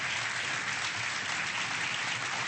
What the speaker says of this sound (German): Applaus, David Garrett, mein Gott.